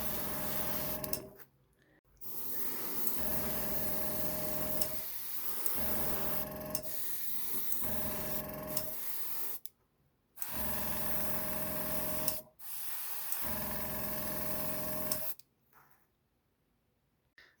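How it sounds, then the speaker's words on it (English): An airbrush sprays paint onto plastic model buildings, a close, steady hissing spray that runs in long bursts of several seconds, broken by short silent pauses between passes, with no talking. "I've just done the airbrush of the concrete"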